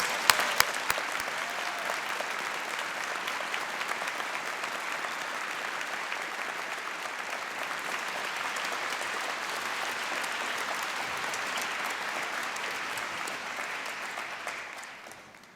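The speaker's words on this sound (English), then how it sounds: "A big round of applause for our new graduates." Applause for new graduates fills the hall at a Strathclyde Business School graduation ceremony, a broad, even clapping heard from a distance that holds for about fifteen seconds, then fades out.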